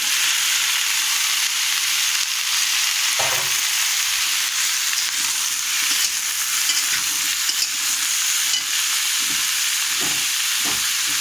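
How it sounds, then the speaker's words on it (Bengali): Onion, potato and pointed gourd sautéing in a hot pan for a Bengali jackfruit-seed dish, a steady loud sizzle and hiss throughout with occasional stirring scrapes and clinks, no voices. "এর মধ্যে একটু আলু দেব, পটলটাও দিয়ে দেবো, দিয়ে কষিয়ে নেব"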